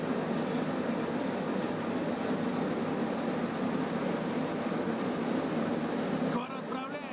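Steady rumbling rail noise of a tram moving in the video game Escape From Tarkov, a loud continuous roll that drops off near the end, with people talking over it.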